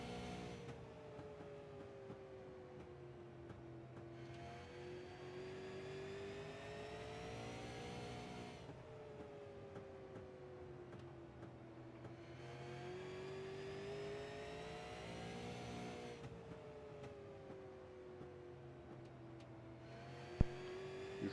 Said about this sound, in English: It's very interesting actually hopping on board and listening to the throttle control and how far they actually use the apron.